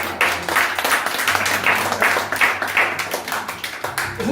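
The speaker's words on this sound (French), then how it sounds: "On acclame pour l'apôtre Tibassa." A church congregation claps for the apostle in a steady, rhythmic beat of many hands, lively and fairly close, with a faint murmur of voices underneath.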